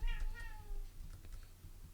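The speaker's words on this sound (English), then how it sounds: "My cat is happy about it as well." A pet cat gives a couple of drawn-out meows near the microphone in a room, followed by quiet keyboard typing and faint background noise.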